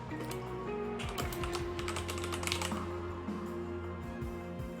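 A clacky computer keyboard rattles with rapid, continuous typing, bright and close, the keystrokes tumbling over one another without any speech.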